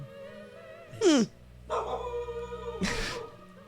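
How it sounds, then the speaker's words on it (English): A dog barks in two loud bursts, a sharp yelp and then a longer whining bark, close by with quiet pauses between. "He's barking at the birds."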